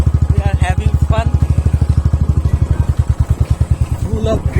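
A motorcycle rides along a muddy, bad road, its loud, evenly thumping engine pulse close up and steady throughout, with a voice speaking briefly over it.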